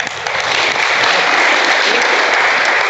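Group clapping at a university yoga session, a loud, dense, continuous patter of many hands without a break.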